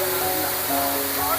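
A high-pressure water jet sprays steadily at a vehicle service station during its opening ceremony, making a loud, continuous hiss while voices talk underneath.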